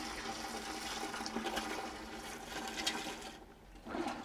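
Dirty water is poured and splashes into a toilet bowl for a few seconds after cleaning a Škoda Octavia interior, a steady rushing that briefly eases before picking up again.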